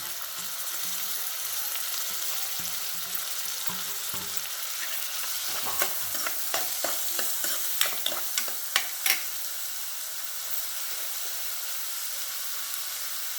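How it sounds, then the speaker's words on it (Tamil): Ground onions sauté in melted butter for paneer butter masala, giving a steady close-up sizzle with a burst of clinks and scrapes from stirring partway through, and no talking. "இப்போ பொடி பொடியாக அரைச்சிட்டு வெங்காயத்தை போட்டு நல்லா வதக்கிடுவோம்"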